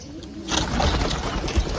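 Wild pigeons coo in low, soft murmurs against a steady outdoor background that thickens with broadband noise partway through, the calls close and repeated.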